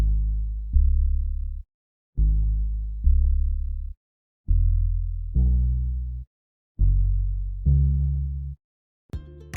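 An Electric Fingered preset from the Morphine synth plays a deep, round synthesized bass line, six sustained notes in three pairs with short gaps, followed by a brief click, heard alone in an Afrobeat beat setup.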